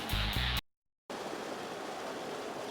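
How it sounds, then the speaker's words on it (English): Waterfall cascading over the rocks beyond the center field wall at Angel Stadium during a 2009 ALCS playoff game, a steady, even wash of falling water after a brief louder burst and a short gap of silence. "That waterfall, very serene"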